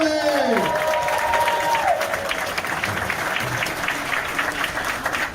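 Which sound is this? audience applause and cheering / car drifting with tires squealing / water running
audience applause and cheering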